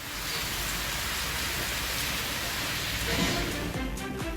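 Heavy rain pours steadily with strong wind in Pudukkottai district, Tamil Nadu, a dense, continuous hiss of drops hitting surfaces at constant loudness throughout.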